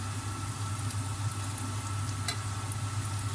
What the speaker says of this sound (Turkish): köftelerimizi çeviriyoruz. Gördüğünüz gibi köftelerimiz kızardı.